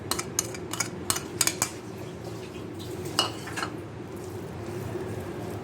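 A spoon clinks and scrapes against a bowl while a beaten egg is worked into a thick smoked chicken shami kabab mixture. Quick metallic taps come in a run at first, then give way to softer, duller mixing noise.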